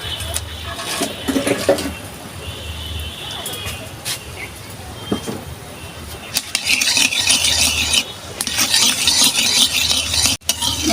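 Dried red chillies frying in oil for a tempering, a steady broad sizzle with stirring clatter and a few sharp scrapes, growing louder and brighter toward the end.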